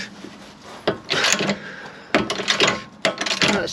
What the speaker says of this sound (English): I think that's just slipping the bolt head.